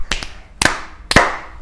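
A few sharp, separate hand claps, like children clapping along to a Christmas song at an elementary school, land in a loose rhythm with quiet gaps between them.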